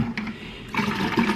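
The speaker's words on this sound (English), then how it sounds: "Just putting my water in my cup" Water pouring from a gallon jug into a cup, a steady splashing liquid stream that swells louder midway, close and continuous with no talk.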